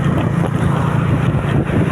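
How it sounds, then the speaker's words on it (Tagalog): A motorcycle engine idles while warming up after being pushed, a steady close chugging putter mixed with heavy wind buffeting across the microphone. "ngayon ito pinapainit namin yung motor"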